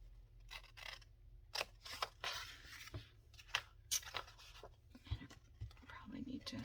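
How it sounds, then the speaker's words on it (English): Scissors cut paper down to a fold line in a quiet indoor craft setting, making a series of close, crisp snips in an uneven rhythm, with soft rustling and quiet talk between cuts. "I want to cut down here to the second fold line."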